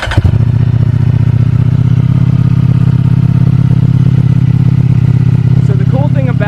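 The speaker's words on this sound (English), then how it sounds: "do you want to give him a quick start up here" A 2020 Ducati Streetfighter V4S has just started and idles loud and close, giving a steady deep rumble with mechanical clatter, and a voice comes in near the end.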